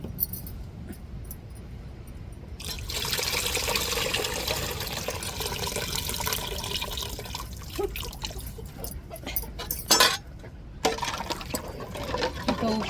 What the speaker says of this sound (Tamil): இப்போ புளி தண்ணியவும் நம்ம சேர்த்துக்கிடுவோம்.